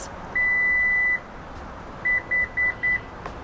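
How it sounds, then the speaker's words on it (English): Electronic beeps from a Lexus power back door: one long tone followed by a quick series of four short, evenly spaced beeps, clear and close over a faint background hum. "push and hold until you hear a series of 4 beeps"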